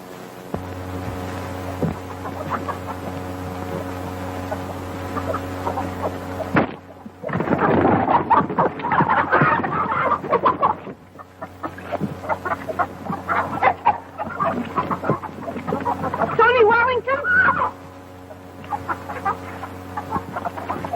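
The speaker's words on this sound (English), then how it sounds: "Oh, he can't hurt them chickens." Chickens cluck and squawk in agitated bursts in a 1934 Western film scene, loud flurries of fowl noise rising over a steady low hum, then settling and flaring again.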